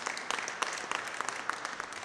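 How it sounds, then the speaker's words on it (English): Audience applause at an outdoor groundbreaking ceremony for the Geneva Car Barn and Powerhouse, a fairly quiet, steady patter of many hands clapping at some distance, continuing throughout. "Let's give him a round of applause for his leadership."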